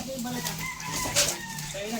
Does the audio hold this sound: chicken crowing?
yes